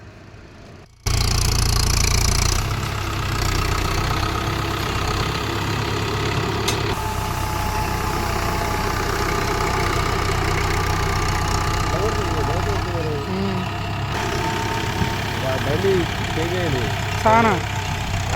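A Mahindra 575 tractor engine idling in one place, a steady low rumbling drone that runs throughout, with a few faint whistling tones over it late on.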